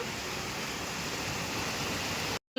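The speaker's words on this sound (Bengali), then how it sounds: "অনেক অনেক জোরে বৃষ্টিটা পড়ছে" Heavy rain pours down in a continuous, even hiss of dense falling water, steady and moderately loud, with no talking, before cutting off abruptly at the very end.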